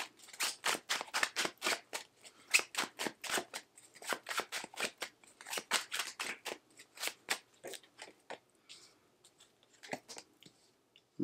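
Tarot cards being shuffled and drawn during a Scorpio reading, a fast run of crisp riffling flicks in a steady rhythm, close and fairly quiet, thinning out into scattered slaps and taps near the end with no talking.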